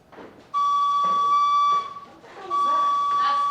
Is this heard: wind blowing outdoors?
no